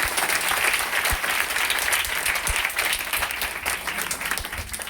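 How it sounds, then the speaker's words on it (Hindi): An indoor meeting audience breaks into loud, sustained applause, a dense wash of many hands clapping steadily for about five seconds with no talk over it. "एक जोरदार ताली आप लोगों के लिए"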